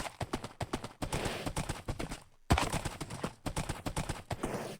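Horse hooves clip-clop in Minecraft, a quick run of close, regular hoofbeats that pauses briefly and then carries on at the same steady pace.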